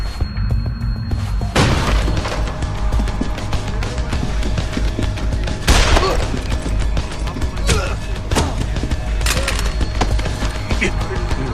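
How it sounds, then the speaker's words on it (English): Repeated sharp gunshot bursts and booms crack through a dense, noisy soundscape in the video game Deus Ex: Human Revolution, irregular and loud. "Gunshots! You've got to help me!"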